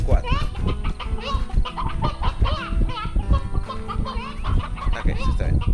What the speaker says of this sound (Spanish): son cuatro gallos nada más